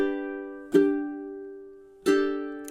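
Two slow ukulele triplet strums, each a bright ringing chord struck about a second and a half apart and left to sustain, played close and alone with no voice.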